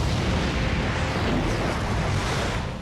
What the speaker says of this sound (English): When the plant finally erupted, the blast was so powerful, the cameraman filming from a nearby mountain was knocked back.